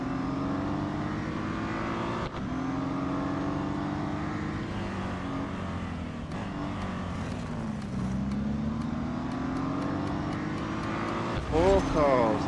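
BMW M Hybrid V8 race cars in a racing video game, with a continuous loud engine drone whose pitch rises and falls through gear shifts over about twelve seconds. A brief higher rev sweep comes near the end.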